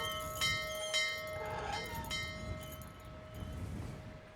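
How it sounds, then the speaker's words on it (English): Several clear metallic dings from the barman's bell in the game Syberia, struck about every half second with ringing tones that fade over a quiet low hum. "It's the bell for the barman."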